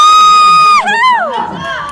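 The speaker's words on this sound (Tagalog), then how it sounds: "Lakas pa naman lang ng sigaw." A crowd at an MPBL basketball final game shouts and cheers, a loud, sustained, close roar of voices rising and falling in pitch across two seconds.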